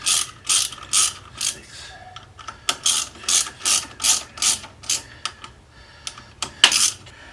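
Hand ratchet tightening clutch cover bolts on a 2022 Honda Grom SP, giving repeated sharp clicking bursts in a steady rhythm, close and loud, with one spoken number briefly heard.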